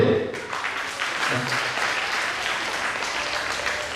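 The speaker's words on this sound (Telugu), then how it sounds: "ఒకసారి గట్టిగా చప్పట్లు కొడితే" Audience at a dance competition claps in a dense, sustained burst of applause, loud and steady throughout, with a voice briefly at the start.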